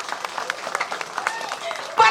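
A Balinese temple audience at a Calonarang performance claps in scattered, uneven bursts, moderately close, with a louder flourish at the end.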